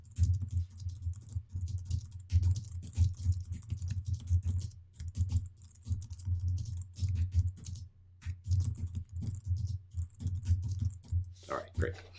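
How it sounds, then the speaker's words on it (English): Typing on a computer keyboard, with steady, fairly quick key clicks over a constant low electrical hum, and brief pauses between runs of keystrokes. "let me just type in this little message."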